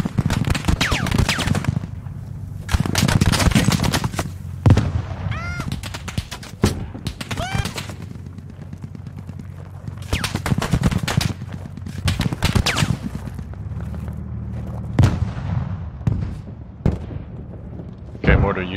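Mortar fire in a tactical shooter video game, loud booming shots and bursts recurring irregularly, with machine-gun style crackle and voices talking over the top.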